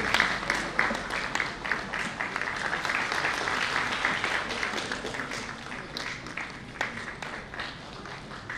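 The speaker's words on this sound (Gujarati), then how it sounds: "જોરદાર તાળીઓના નાદથી આપણે વધાવી લઈશું" An audience at a Gujarati felicitation ceremony, where an honoree receives a book and a khadi handkerchief, breaks into sustained applause, a dense, even wash of many hands clapping at moderate distance.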